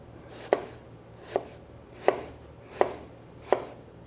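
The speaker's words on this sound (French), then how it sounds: "Pour la couper, on coupe en deux." A knife slices through an apple on a cutting board in five crisp, evenly spaced chops, each a sharp close knock with quiet pauses between.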